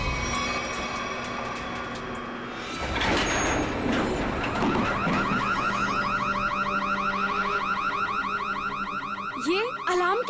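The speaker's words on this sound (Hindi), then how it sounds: "ये अलार्म कैसा? लगता है लिफ्ट अटक गई है" Alarm sounding from a stuck lift, a loud pulsing electronic tone swelling over a rumbling, noisy background; no one speaks.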